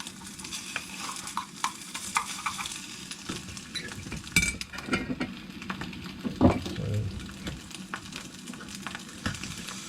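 An egg frying in oil in a camping pan, giving a steady low sizzle with a few brief scrapes and clinks near the middle, close and fairly quiet, with no talk.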